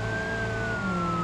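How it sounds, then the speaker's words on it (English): Police cruiser siren wailing loudly on a coastal road, a steady high electronic tone sliding slowly downward, sounding alone and close throughout the short stretch. "I'm going to turn my siren on for this."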